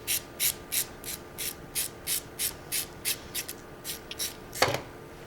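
A file worked at a 45-degree angle against a curve, heard as a slow, regular series of about a dozen faint, soft scraping strokes close by, ending with a sharper knock.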